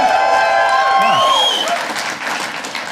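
Stand-up comedy audience cheering and applauding, a dense wash of clapping and shouts with a few whoops rising over it, steady and loud before easing slightly toward the end.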